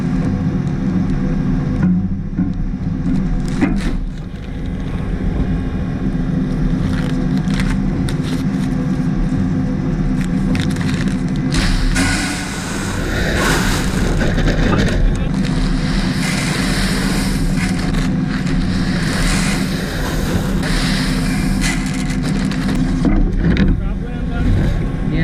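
A tractor runs steadily while planting corn in a field, its engine drone continuous throughout, with wind buffeting the microphone and a person talking over it at times.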